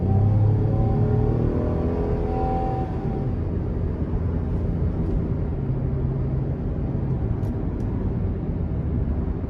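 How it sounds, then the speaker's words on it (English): The engine of a 2011 Cadillac SRX revs under throttle, its rising tone fading after a few seconds into a steady, broad rumble. "We'll give it some throttle here."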